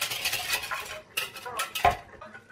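Mustard mixture whisked in a bowl, quick metallic scraping and clinking of a whisk against the bowl in uneven bursts with brief pauses, close and moderately loud.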